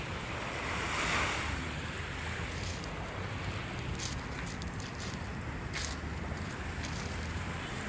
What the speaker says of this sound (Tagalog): Ayan yung alon, oh. Mahina pa lang naman yung alon, ano.